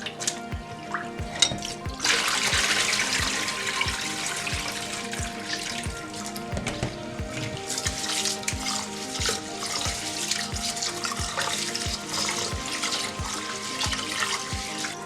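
Basmati rice is washed under a running kitchen tap, a steady stream of water splashing and sloshing in a sink with rhythmic stirring pulses, close and moderately loud, no voices.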